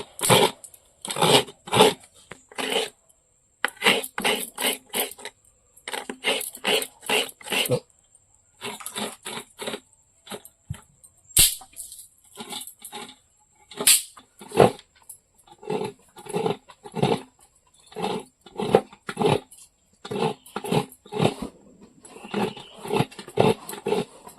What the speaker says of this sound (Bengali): আমি নারকেলটা কুড়িয়ে নিচ্ছি।